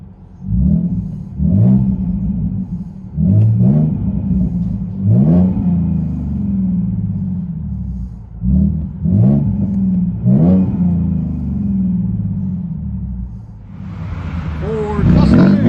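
A Ford Mustang with a 3.7L V6, six-speed manual and loud aftermarket exhaust, heard from inside the cabin, revs repeatedly in short sharp bursts over a deep burbling idle, with a rushing hiss near the end.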